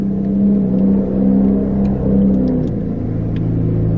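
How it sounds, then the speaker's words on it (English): A loud car drives past nearby, its deep engine rumble swelling and holding steady for several seconds before easing off slightly, with no talking over it. "why your car gotta be so loud?"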